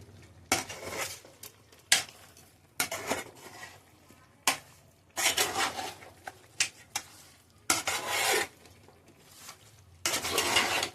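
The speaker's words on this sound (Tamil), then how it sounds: "போட்டுட்டு நல்லா கறி பரட்டி விடுங்க" Country chicken curry with masala being stirred in a pot, a ladle repeatedly scraping and clanking against the metal in bursts, with a faint sizzle of frying beneath, close and fairly loud.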